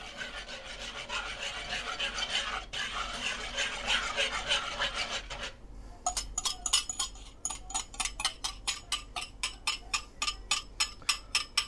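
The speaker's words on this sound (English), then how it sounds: "Make sure you're constantly stirring this." Spoon stirring banana pudding custard of sugar and eggs in a pot over medium heat, a continuous scraping rub that turns into quick rhythmic strokes against the pot, close and steady with no voices.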